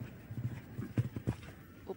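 Horse hooves thud in quick, uneven beats across a show jumping arena at a Nations Cup event, moderately near, with low crowd murmur and faint commentary underneath.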